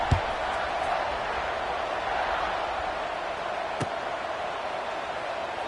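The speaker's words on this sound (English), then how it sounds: "this crowd is buzzing after that last score." A stadium crowd in a football video game buzzing after a touchdown, a steady wash of distant crowd murmur and cheering, with a couple of sharp thuds standing out.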